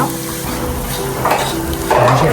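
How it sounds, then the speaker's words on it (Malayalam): Shallots and curry leaves sizzle in hot coconut oil in a pan, a steady close frying hiss that swells louder near the end, with light stirring against the pot. "ഇപ്പൊ എണ്ണ ചൂടായിട്ടുണ്ട് നമുക്ക് ഇതിനകത്തോട്ട് ചെറുവിള്ളിയും കറിവേപ്പിലും"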